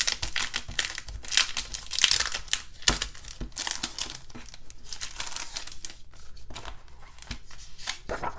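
Plastic packaging around a Happy Planner paper pad is pulled open, making quiet, close crinkling and crackling bursts with short tearing rustles in an uneven rhythm, and no one speaks.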